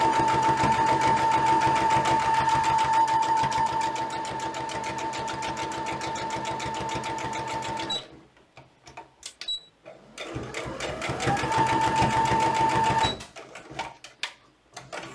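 A sewing machine stitches a fabric blanket piece for a plush toy bear, running steadily for about eight seconds, pausing amid handling noises, then running again briefly before stopping.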